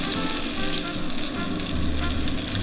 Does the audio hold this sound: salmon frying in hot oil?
yes